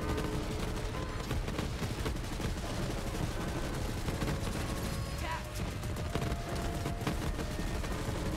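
Continuous rapid gunfire and explosive bursts from the M10 La Varlope assault rifle firing rockets in Borderlands, dense and steady throughout with a voice faintly present in the mix.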